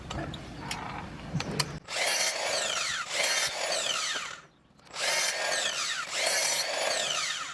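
A miter saw set to 22.5 degrees cuts wood for a narrowboat kitchen build, making several loud, close whining bursts as the blade bites through the timber, separated by short pauses, with no talking.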